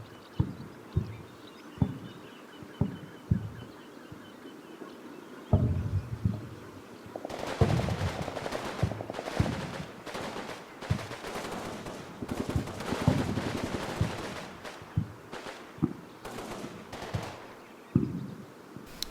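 Machine gun fire in the WWII tactics video game Combat Mission, scattered single shots early on, then dense rattling bursts of automatic fire that continue in waves, moderately distant.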